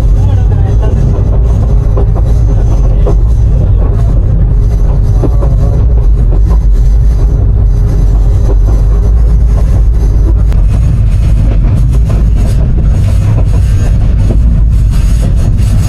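A passenger train runs through Pahartali station in Chittagong without stopping, a loud steady rumble of wheels and carriage noise throughout, heard from on board with some talk mixed in.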